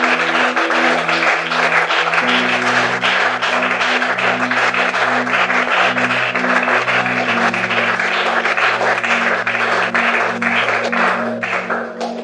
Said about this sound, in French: On acclame pour la parole de Dieu.